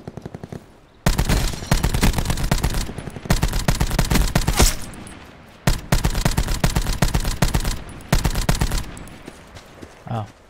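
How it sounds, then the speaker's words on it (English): Loud rapid-fire gunfire in a video game rattles in long automatic bursts, repeated several times with brief pauses between, close and dominant, with occasional speech in the background. "can you not shoot at me?"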